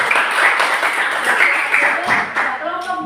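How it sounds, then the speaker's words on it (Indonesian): A classroom of students applauds their classmates in group 1, a dense burst of clapping that fades toward the end, with some voices mixed in. "tepuk tangan kelompok 1."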